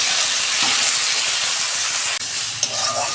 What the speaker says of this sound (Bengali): সিম ভাজা হয়ে গেছে, আমি ঢেলে ফেলছি।